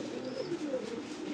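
A pigeon coos softly and steadily in a short, low, throaty warble, close by and alone, with no talking.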